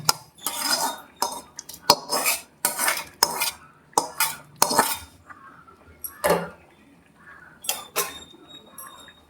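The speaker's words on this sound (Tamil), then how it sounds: "மேலோட்டமாக கிண்டி விட்டுப்போம்" A spoon stirs spinach sambar made with agathi greens in a metal pot. Repeated scraping and clinking strokes come in bursts with short pauses, close and fairly loud.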